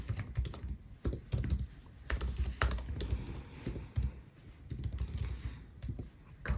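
Fingers typing steadily on a Mac computer keyboard, a dense run of close, crisp key clicks in uneven bursts with brief pauses, no voices.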